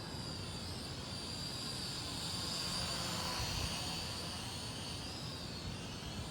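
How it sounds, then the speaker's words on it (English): A small foldable beginner quadcopter drone in flight, giving off a steady, high-pitched whine with a constant hum beneath, faint and unbroken throughout. "Yeah, it's a nice flying drone."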